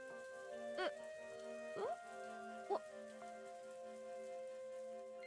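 Rain falls in the visual novel game Umineko Chiru, a soft steady patter behind sustained musical tones, with a few brief louder accents scattered through; no voices.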